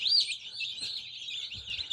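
High, thin peeping of newly hatched chicks chirps continuously and fairly close, with soft rustling underneath.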